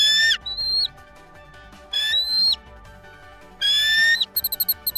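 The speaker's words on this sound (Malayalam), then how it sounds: "ചെറിയ കുരുവിയുടെ ശബ്ദം" A small sparrow gives three bright whistled calls at a bird sanctuary by Vembanad Lake, followed by a quick run of short chirps, close and clear with no talking.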